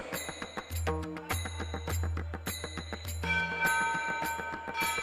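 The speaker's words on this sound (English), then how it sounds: "joining hands in ringing the bell of world peace" A ceremonial world peace bell rings repeatedly at an interfaith summit, bright sustained metallic tones struck in a steady rhythm, fairly close with a low hum underneath.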